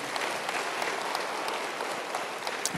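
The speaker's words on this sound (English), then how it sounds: "I think that deserves a clap for God because of what he's done in this church." A church congregation claps together in a sustained round of applause, a moderately loud, even wash of many hands with a few sharper claps standing out and no speech.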